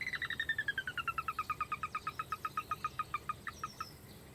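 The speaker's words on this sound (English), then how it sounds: "this digital sound system that uses MP3 files to attract the birds" Recorded Sora rail calls broadcast from a digital MP3 sound system in a dense marsh: a loud, rapid descending whinny of about twenty sharp, evenly spaced notes that slows and fades toward the end.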